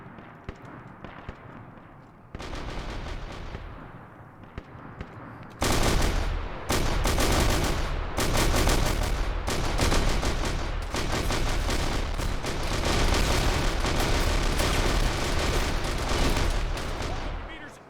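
Heavy gunfire and explosions from a multiplayer military shooter game, with a quieter stretch giving way to loud, sustained bursts of automatic weapon fire and blasts that continue densely to the end.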